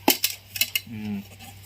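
A large, thin aluminum camping frying pan is handled, giving a few sharp metallic clinks and taps in quick succession, followed by a brief spoken voice.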